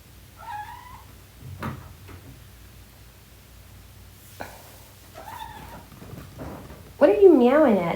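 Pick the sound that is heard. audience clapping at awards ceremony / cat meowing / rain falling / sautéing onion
cat meowing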